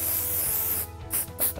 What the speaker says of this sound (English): we're going to finish off the whole look with a good bit of hairspray